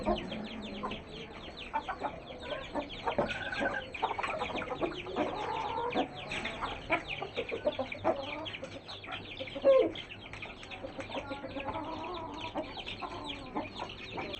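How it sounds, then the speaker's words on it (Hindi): A rooster, hens and chicks cluck and chatter continuously in a busy flock, with soft peeping and scattered rustling, mostly at moderate distance and fairly quiet. "हमारा मुर्गा और मुर्गी और चूज़े बाहर मैंने खोल दिए हैं, खा पी रहे हैं।"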